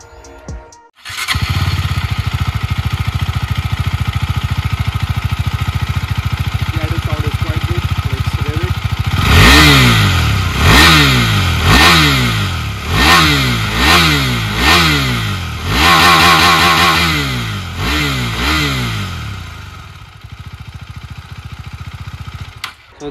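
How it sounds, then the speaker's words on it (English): A 2023 KTM Duke 390 motorcycle engine starts and idles with a deep, loud exhaust note, then is revved hard several times in quick bursts before settling back to idle. "let's hear the exhaust note of the KTM Duke 390"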